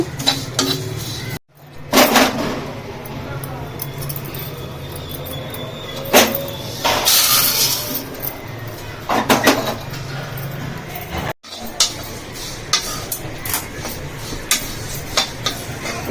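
Food dry-frying in a pan with no oil while being stirred continuously, producing scraping and clinking of a utensil against the pan in bursts, with a steady low background hum and a few sharper knocks.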